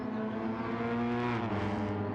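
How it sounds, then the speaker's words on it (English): Engine exhaust note of a Hyundai Elantra race car in Gran Turismo 7, a steady loud drone held near and alone, its pitch sliding slightly down then back up. "It has a very nice exhaust note."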